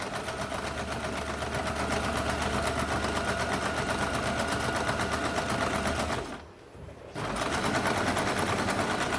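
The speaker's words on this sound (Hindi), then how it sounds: "अभी यहाँ पे इसके ऊपर डबल सिलाई लगानी है।" A sewing machine running a double line of stitching on a katori blouse, a loud, close, steady mechanical rattle that drones on, pauses briefly, then resumes at the same pace.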